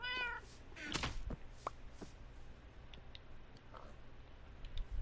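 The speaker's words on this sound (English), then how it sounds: "But no, the cat's fine." A cat meows in Minecraft Bedrock Edition, a clear meow near the start followed by a few fainter chirps and soft clicks against a quiet game background.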